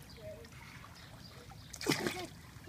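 Water splashing in a pool on the first swim of the season, faint background movement followed by one louder, close splash near the end, with a voice nearby.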